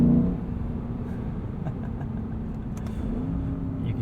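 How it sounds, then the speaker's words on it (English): A 2022 Lexus IS 500 V8 engine revs hard against its rev limiter, a steady droning roar heard from inside the car that rises slightly toward the end, with no talking. "It's got to be my favorite rev limiter on sale today."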